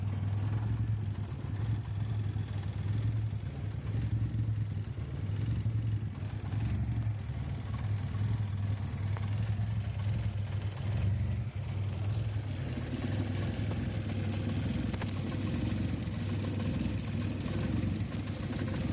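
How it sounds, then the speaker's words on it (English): A VW Golf Mk1 engine idles lean after its carburetor idle screw is turned in, giving a constant low rumble that roughens and deepens partway through. "as I turn it in, you're going to see that the vehicle is going to have less fuel at idle, and the whole engine is going to start vibrating"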